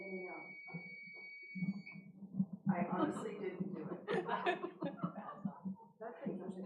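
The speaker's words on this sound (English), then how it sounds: "That's the alarm." A steady electronic building alarm beeps in a sustained high tone during a board meeting, ending after about two seconds as people begin talking and chuckling over it.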